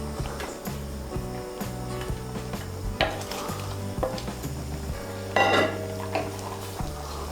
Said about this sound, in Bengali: বড়াগুলোকে ঝোলের সঙ্গে ভালো করে মিশিয়ে নেব